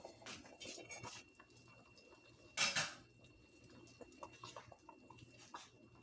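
A metal cooking pot of noodle and potato soup is opened in a home kitchen. Faint clinks and taps lead to one sharp, louder clatter of the lid midway, then softer dish knocks follow.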